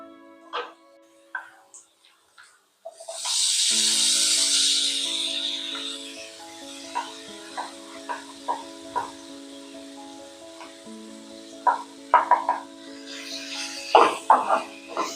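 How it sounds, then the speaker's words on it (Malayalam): Marinated soya chunks hit a hot pan with a sudden loud hiss of sizzling that fades after a few seconds. A steady hum continues underneath, and scattered clinks and scrapes of stirring follow. "അതിലേക്ക് നമുക്ക് മാരിനേറ്റ് ചെയ്ത് വെച്ചിരിക്കുന്ന സോയ ഇട്ട് കൊടുക്കാം"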